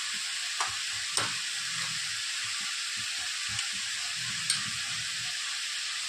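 Red chili powder and homemade masala spices frying in a pan for a dal and dried fish dish, giving a steady close sizzle with soft stirring scrapes and a few sharp clinks, no voices.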